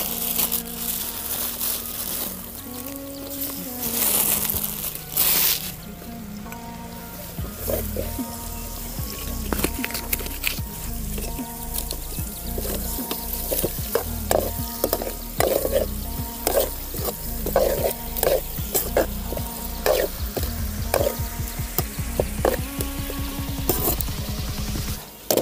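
Chicken going into a pan of frying onions, with steady sizzling and frying, scraping and stirring, and some tonal background sounds throughout.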